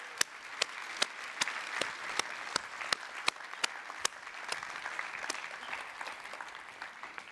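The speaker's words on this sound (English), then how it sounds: "Let's give them another round of applause." A church audience applauds after a children's musical, a broad wash of crowd clapping with a few sharp, loud nearby claps standing out in an irregular rhythm, continuing for several seconds.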